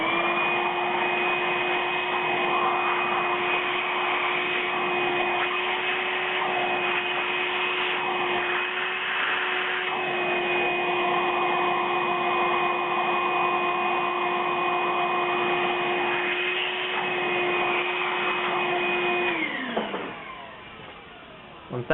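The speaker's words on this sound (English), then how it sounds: "with a vacuum, just suck all the dirt out" A steady, loud vacuum whine runs continuously for about twenty seconds, sucking dirt from a hole in an angle grinder during flange replacement, then winds down as the motor is switched off near the end.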